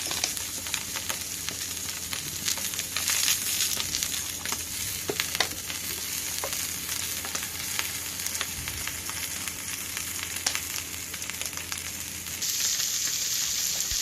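Steady oily sizzling and crackling of mullet fish frying in oil in a pan on a home gas stovetop, with small pops and spits throughout and no talking.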